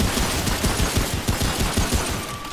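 Enemy gunfire in the video game Remnant: From the Ashes: rapid, loud bursts of shots cracking out in an uneven rhythm, dense and close, with no talking over them.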